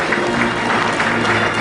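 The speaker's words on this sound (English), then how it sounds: "We should continue the claps for the winners." An audience at a PSU Summit 2014 awards ceremony keeps clapping for winners on stage, a loud, dense, continuous round of applause.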